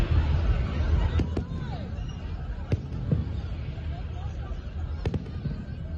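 Distant Fourth of July fireworks pop in a few sharp, scattered bursts over a steady low rumble of crowd noise and outdoor ambience.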